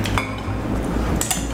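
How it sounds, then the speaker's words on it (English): A utensil clinks against a dish while stirring an oily sauce for a somen salad, light metallic taps over a steady close kitchen hum, with no talking. "There's oil in it, so you have to stir it."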